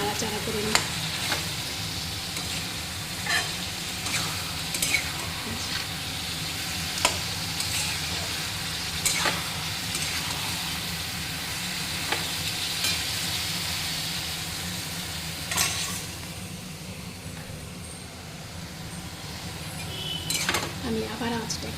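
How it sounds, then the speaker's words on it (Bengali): Garlic frying in a pan as the base for a chicken curry, stirred throughout: a steady close sizzle with regular spatula scrapes and clinks, and a voice talking faintly underneath. "এবার এটাকে একটু ভালো করে নাড়াচাড়া করে নিই।"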